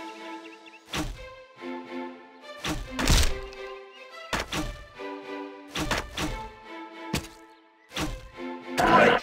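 Shots fired in the CastleStorm battle game: a string of hollow, heavy thunks and thuds at irregular intervals, some followed by ringing tones and crunchy impacts, mixed with game music and no talk.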